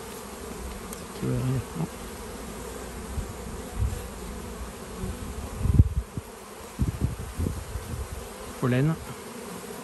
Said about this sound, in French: On voit du bourdon rentrer.